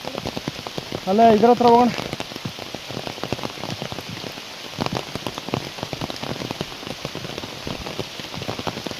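Steady rain pours down around people walking on a rainy trip to Yana, with a brief sung or hummed phrase near the start and scattered talk over the constant hiss of falling drops.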